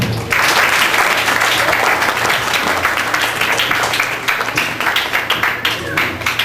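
Congregation at a Sunday school anniversary clapping for a child receiving a class-test prize, loud dense applause from a crowd that starts abruptly and becomes more scattered toward the end.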